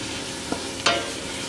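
Onions dropped into five to six tablespoons of hot oil for ragda give a steady loud sizzling hiss, with a short spoon clink and a sharper burst of crackle, heard close and alone.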